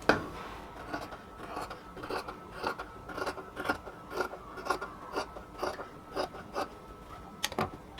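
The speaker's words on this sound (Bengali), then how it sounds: "এবার চারপাশে যদি কোনো রকম এক্সট্রা কাপড় থাকে সেটা অবশ্যই কাটিং করে নেবেন ব্লাউজটাকে কমপ্লিটলি ফিনিশিং করার আগে" Scissors trim extra cloth from a blouse being stitched, a string of crisp snipping cuts in an uneven rhythm, close and clear with no talking.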